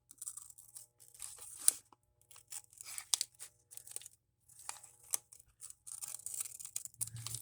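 Scissors snipping around paper to make a dinosaur journal strap: irregular clusters of crisp, quiet cuts and crinkles with brief pauses between them. Close and soft, with no speech.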